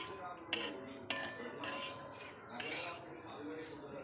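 A spoon scrapes and clinks against a pan and bowl as fried ivy gourd stir-fry is moved into another bowl; several soft scrapes with a few sharper knocks.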